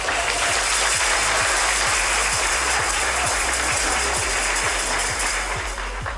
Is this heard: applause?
yes